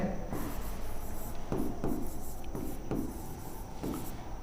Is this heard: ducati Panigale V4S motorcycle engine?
no